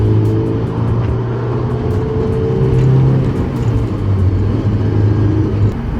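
A Honda S2000 roadster drives through the night, its engine a steady close rumble with a held tone that shifts pitch slightly as it pulls along, with no voices.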